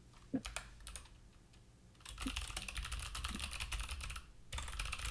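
Typing on a computer keyboard comes through quietly and up close, sparse key taps giving way to a denser run of rapid clicks, then a brief pause and another burst.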